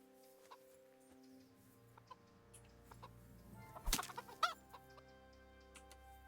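Chickens clucking in the medieval game Kingdom Come: Deliverance, several soft clucks and murmurs close by with a louder flurry of squawks midway, over a quiet ambient background.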